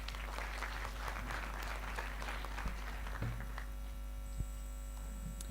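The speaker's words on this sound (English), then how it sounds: "Please welcome her with a round of applause." An audience at a women-in-sport dialogue in Gauteng claps for a motivational speaker, a dense, steady patter of many hands over low mains hum that thins out and fades after about three seconds.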